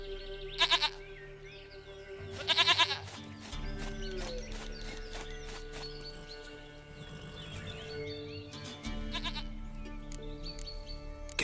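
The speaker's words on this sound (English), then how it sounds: "Goat of mine, dearest, sweetest goat." Goat bleats in The Witcher 3 video game ring out as a few short, loud, wavering cries near the start and again later, with steady game ambience and faint music between them.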